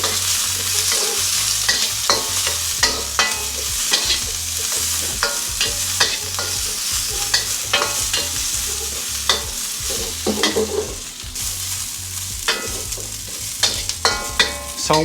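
Onions, garlic, spring onion stems and carrots being stir-fried in a hot pan for soy sauce chow mein, with steady sizzling and repeated sharp scraping and tossing clatters from the utensil, close and without speech.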